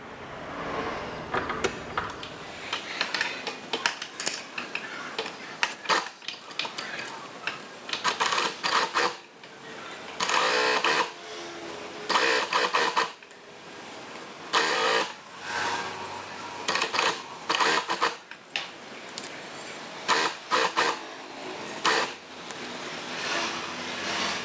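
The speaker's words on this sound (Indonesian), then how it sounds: "Sekarang saya mulai jahit sebagian sebelah." A sewing machine stitching a zipper onto a child's half-circle gamis dress, running in short bursts of rapid rattling stitches separated by pauses and small clicks, close and fairly loud.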